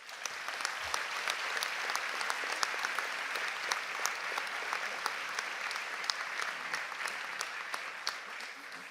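Steady applause from a large audience, dense and even clapping that holds for the whole stretch without a break.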